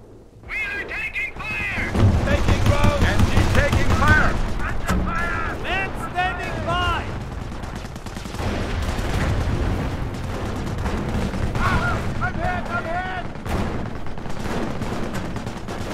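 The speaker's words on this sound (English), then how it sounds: "They're shooting at us! Shoot back down!" Gunfire and explosions from a Company of Heroes Opposing Fronts battle at Oosterbeek in Operation Market Garden, with continuous crackling shots and booms while voices shout over the fighting.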